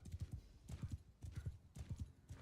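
Hooves of a horse in a video game clip-clop in quick, steady groups of beats, moderately loud and close, with no one talking over them.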